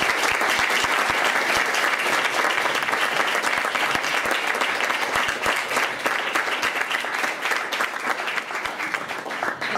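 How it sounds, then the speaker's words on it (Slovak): A crowd at an awards evaluation event gives sustained, loud applause, with sharp individual claps audible over a thick, even wash for nearly ten seconds. "si na záver ešte pred hudobnou produkciou zaslúži jeden obrovský potlesk"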